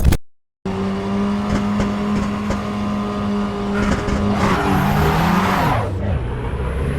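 An Abarth 695 Biposto, a race version of the Fiat 500, drives in Assetto Corsa Evo. Its engine holds a loud, steady drone, then revs up and shifts gears with rising and falling pitch, while tires squeal near the end.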